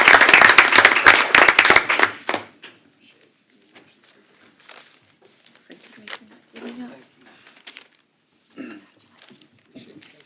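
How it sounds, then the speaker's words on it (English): Audience applause at a school board of trustees meeting, a loud burst of clapping for about two seconds, then quickly fading into quiet room noise with scattered faint sounds. "Big round of applause."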